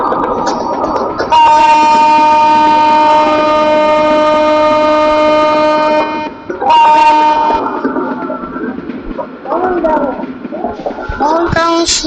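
Locomotive horn in a train driving video game, two long, loud sustained blasts with a steady tone, followed by rumbling engine and clattering noise.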